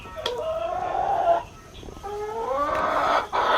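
Chicken in a DIY backyard coop, a few drawn-out clucking calls with rising and falling pitch, close and clear, separated by a short pause.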